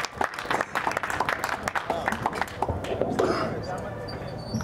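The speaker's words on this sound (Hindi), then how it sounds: "जोरदार तालियों स्वागत कीजिए" An audience at a mushaira poetry event in Jaipur bursts into lively applause, dense and scattered clapping with some crowd voices mixed in, gradually thinning out.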